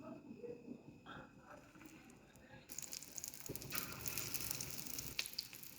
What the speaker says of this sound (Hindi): अब एक एक करके कबाब मैं फ्राई करूँगी।